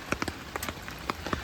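Rain patters on a tent propped up with a stick to shed a heavy load of water, the drops landing as scattered, uneven taps on the fabric, close by and fairly soft.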